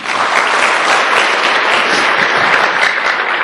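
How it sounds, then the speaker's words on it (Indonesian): An audience applauds at a networking seminar, dense sustained clapping filling the room at a loud even level. "Aplaus buat Anda semuanya"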